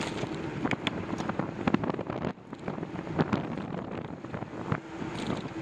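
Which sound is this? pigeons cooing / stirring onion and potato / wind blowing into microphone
wind blowing into microphone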